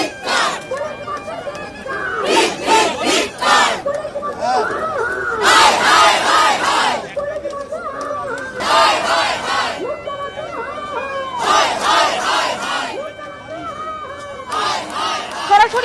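A street protest march by Abhaya Mancha and several mass organisations in Kolkata, halted by police near Lake Market, roars with loud, close crowd chanting that rises and falls in repeated rhythmic bursts, with murmuring between the slogans.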